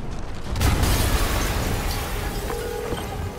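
A deep, rumbling explosion in the Spider-Man video game, a loud boom swelling into a sustained crackling roar with debris noise that slowly fades.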